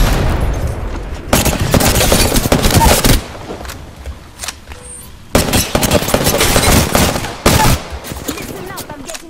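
Rapid automatic gunfire in Apex Legends, loud bursts of rattling shots in several long volleys separated by brief pauses, up close with other game sounds in between.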